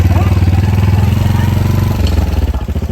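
A motorcycle engine idles and revs with a steady low throb, loud and close, its pulsing rhythm slowing toward the end.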